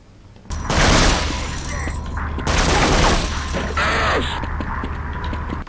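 Enemies in a Half-Life demake video game open fire in loud, dense bursts of gunfire that come in several waves a second or so apart, with crackling, shattering noise layered over a low rumble.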